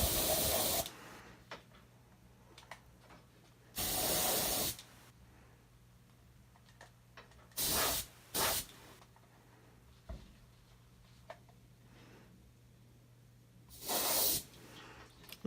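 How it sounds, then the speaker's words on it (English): A dual-action airbrush sprays paint onto an arm in several loud hissing bursts of a second or so each, close by, separated by quiet stretches with a low steady hum. "I want a wider spray, and I keep the airbrush further from the arm to make it hit a greater area."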